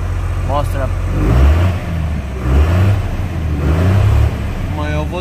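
A Cummins B series diesel engine with its throttle tied down by wire, revving in repeated surges over a rough idle, close and loud, while someone talks over it.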